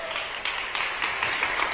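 An audience claps at a livestreaming festival stage event, brief dense applause with a few sharper bursts, heard fairly close.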